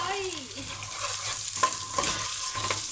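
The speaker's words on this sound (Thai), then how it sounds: "เดี๋ยวจะผัด ปลาหมึกกับถั่วฝักยาวด้วย" Squid and long beans sizzle and clatter in a hot stainless steel pot over high heat as they are stirred, with metal utensil scrapes and a steady frying hiss, close up.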